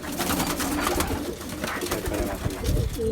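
A domestic pigeon, a female sitting on eggs, coos in soft low murmurs against a busy background of rustling and other birds nearby.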